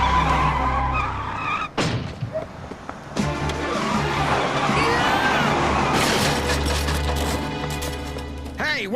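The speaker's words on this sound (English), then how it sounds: "Slamming on your brakes?" A cartoon car skids as the driver slams on the brakes, with loud tire screeches and engine noise over several seconds, punctuated by sudden bursts and voices talking throughout.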